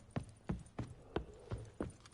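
Roach the horse trotting in The Witcher 3, six evenly spaced hoof clip-clops, crisp and fairly close, with nothing else competing.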